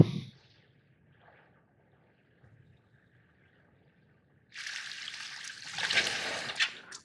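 Water surges and rushes in the video game INSIDE, a loud burst of flowing water arriving after several seconds of near silence with only faint low rumbles.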